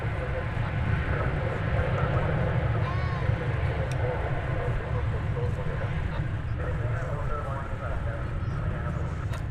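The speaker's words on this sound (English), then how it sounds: "But it's an Airbus A321. It's going to Las Vegas." An American Airlines Airbus A321 bound for Las Vegas moves at DFW Airport, a continuous low engine rumble and roar that stays fairly even from start to finish.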